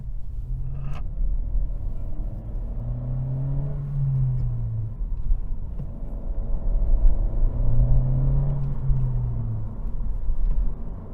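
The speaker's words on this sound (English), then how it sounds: "But I'm ready to start driving the Honda Civic Si." A 2025 Honda Civic Si engine hums and rumbles from inside the cabin, revving up and dropping back twice as the driver shifts, steady and fairly close.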